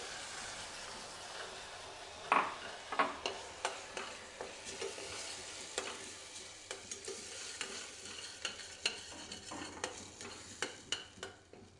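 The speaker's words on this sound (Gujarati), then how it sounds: "હવે જે આપણે મસાલા પેસ્ટ તૈયાર કરીને રાખેલી છે એ ઉમેરી દઈશું અને સારી રીતે મિક્સ કરી લેશું" Masala paste sautéing in oil in a kadai for a green chori curry, a soft continuous sizzle broken by a run of quick scraping stirs, close up with no talk.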